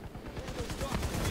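Rapid, close gunfire in Division 2 sounds as a dense rattling burst of rounds aimed at a sniper during a raid boss fight.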